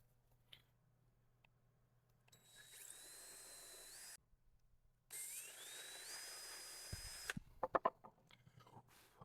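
A power drill bores through a wooden charcuterie board in two sustained whining runs separated by a short pause, each with a rising pitch, followed by a few sharp knocks and clatters at the end.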